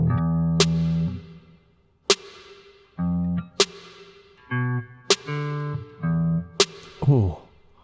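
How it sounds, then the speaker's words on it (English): Electric guitar played through gain and distortion effects, a series of loud sustained chords and single notes with sharp attacks and ringing decay, separated by short pauses. "there's gonna be some distortion on that"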